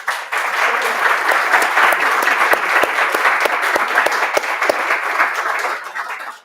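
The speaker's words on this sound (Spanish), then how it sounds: "Le pedimos a todos un aplauso" An audience at a Spanish-language book launch bursts into loud, sustained applause, with sharp individual claps standing out in the dense clapping before it fades at the end.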